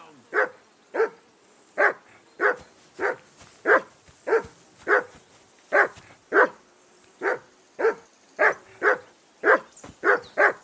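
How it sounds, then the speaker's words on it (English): Dog in the Kingdom Come Deliverance 2 game barking steadily and repeatedly, about seventeen evenly spaced sharp barks at close range with no talk over them. "whistle at that mutt of yours to stop barking"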